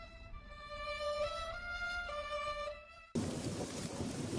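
Rain pours and thunder rumbles for about a second at the end, a sudden dense roar of rainfall breaking in after a stretch of sustained melodic tones.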